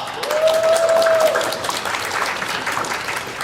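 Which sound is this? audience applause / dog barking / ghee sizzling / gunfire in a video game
audience applause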